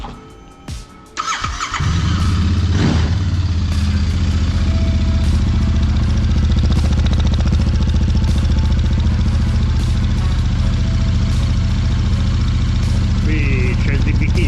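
A Royal Enfield twin-cylinder motorcycle engine with an aftermarket exhaust cranks and fires up after a brief pause, then settles into a loud, steady idle that runs on.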